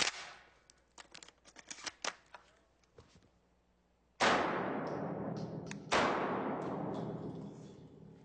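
A Benelli M2 12-gauge semi-automatic shotgun fires two loud, sharp shots on a shooting range, each ringing out in a long decaying tail. Several light mechanical clicks and handling knocks come first.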